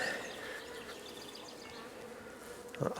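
Honeybees hum around an open hive frame, a soft, steady buzzing close at hand, with a brief handling knock near the end.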